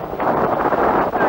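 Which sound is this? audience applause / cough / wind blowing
wind blowing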